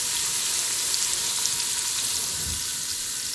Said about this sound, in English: It's going to sizzle. It might be loud.